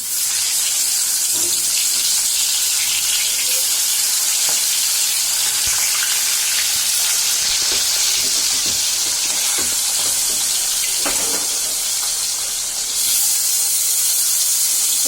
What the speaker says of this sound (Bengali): এখন আমি মাছটা ছাড়বো কড়াইতে।